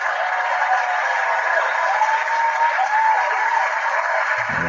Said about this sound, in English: You've got your own applause.